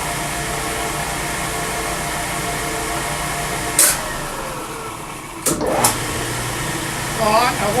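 Metal lathe running in back gear in a workshop, a steady loud mechanical whir and hum throughout with a few brief clanks and knocks near the end.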